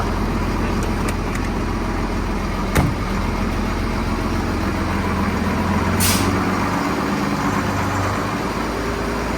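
A ZIL 4331 truck fitted with a Mercedes engine, built from scratch, runs steadily on its first drive with a rough, droning rumble, a sharp click early on and a brief hiss of air partway through, with no voices.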